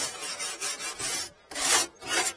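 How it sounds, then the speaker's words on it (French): A brush scrubs surface rust off the front wing of a Renault 4L in several close, rhythmic rasping strokes with brief pauses between them. No one speaks. "on vient brosser en surface"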